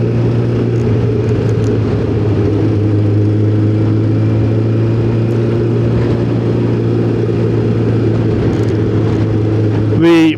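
A Suzuki motorcycle being ridden holds a steady, loud engine drone at an even speed, with a brief surge near the end.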